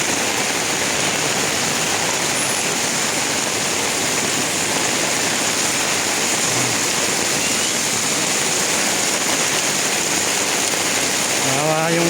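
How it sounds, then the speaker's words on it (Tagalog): Heavy rain pours down steadily during flooding in Metro Manila, a dense, unbroken hiss of water close by with no pauses. "Grabe yung ulan na yan. Sobrang baha."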